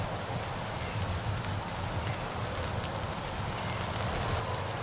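Steady rain falls outdoors among small cedar trees in a wooded hunting spot, a dense, constant hiss of drops with a light breeze that holds evenly throughout, with no talking.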